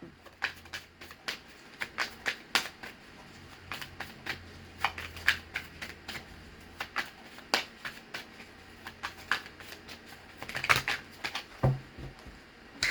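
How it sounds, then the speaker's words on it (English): Tarot cards are drawn and handled from a deck, producing a string of crisp, close snaps and papery flicks in uneven bursts. The handling is quiet, with no speech. "let's get one or two cards from this deck."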